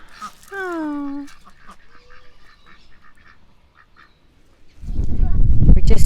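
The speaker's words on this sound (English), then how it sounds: "look at these cute little ducks" Ducks quacking on a country walk: a clear, close series of nasal quacks near the start, a fainter call after, then quiet ambience before a loud rustling, wind-like noise takes over at the end.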